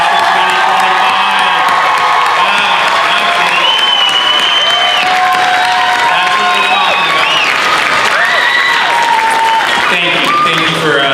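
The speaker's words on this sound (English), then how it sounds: "I think they deserve one more giant round of applause" A graduation ceremony crowd gives a big round of applause for the class of 2025. Sustained, loud clapping mixes with cheers, whoops and shouting voices and continues without a break.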